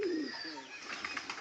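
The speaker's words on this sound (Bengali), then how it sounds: "আমার পাশে দেখো দুটো পায়রা" Pigeons coo softly nearby, a low wavering call followed by fainter chirps and rustling, with a faint background hiss and no talking.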